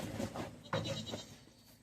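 Goats bleating at feeding time on a homestead, a few short overlapping bleats close by, one sharper call in the middle, with no talking.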